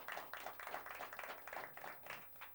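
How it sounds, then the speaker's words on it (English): Studio audience on a late-night comedy talk show applauding for a guest named Joanna, a steady patter of many hands clapping with small swells, fairly faint and unbroken, no talking over it. "Joe, a round of applause for Joanna."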